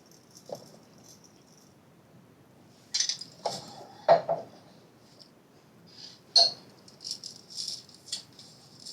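Colourful sprinkles shaken from a container over a homemade cake, heard as a few sparse rattling bursts separated by quiet pauses, close and light, with no talking.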